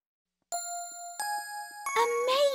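Electric keyboard playing bell tones, three ringing struck notes that sustain and decay, followed by a brighter, busier chime, clear and close with no talk.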